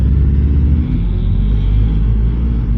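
Suzuki motorcycle engine at full throttle, a loud, close, deep rumbling drone that holds steady with a brief dip near the start, no talk over it.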